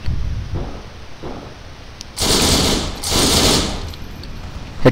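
Gunfire in the World War II shooter Heroes and Generals: a few soft early shots, then two loud bursts of rapid close-range fire about a second apart, ending in one sharp final crack.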